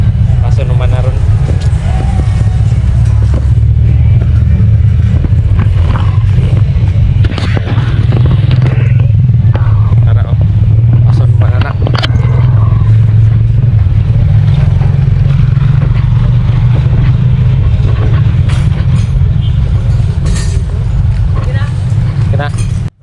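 A Honda CRF 150L motorcycle engine runs steadily while being ridden, a loud continuous low rumble with scraping and clattering on top, and a voice speaking over it at times.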